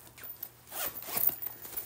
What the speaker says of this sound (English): it's got this zipper here